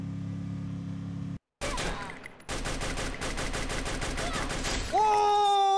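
Handgun fire in the shooter game Free Fire: a rapid, loud string of closely spaced shots after a brief gap, ending as a vehicle engine revs up.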